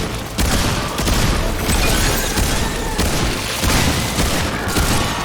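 Sustained bursts of rapid gunfire in the video game Remnant II crackle and boom almost continuously, loud and close, with no talking.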